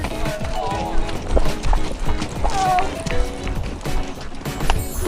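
A loose horse runs during a 50-mile endurance ride, its hooves clip-clopping in a quick uneven rhythm on the ground, with people talking and calling out over the footfalls.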